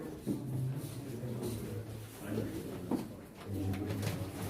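Pigeons at a pigeon auction coo in soft repeated low throaty bursts, several birds close by, over faint room background, with no talk.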